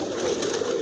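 Pigeons on a rooftop loft give a short, soft, low cooing burr that is faint against steady background noise, with no talking.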